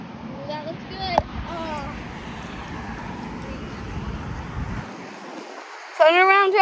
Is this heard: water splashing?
yes